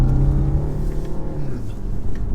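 A 2021 BMW 520d Touring mild hybrid accelerates, its diesel engine giving a loud, steady low drone from inside the cabin with a slowly rising pitch.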